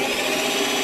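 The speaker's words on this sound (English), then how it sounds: "Keep the drill turning." A power drill runs steadily while cupboard hinges are being repaired, giving a loud, continuous whirring grind up close with no talking.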